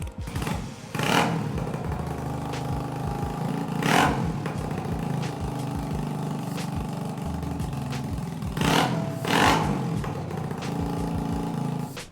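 A custom Honda CB125 motorcycle fitted with a CG125 engine runs nearby, a steady single-cylinder putter rising into several short revs.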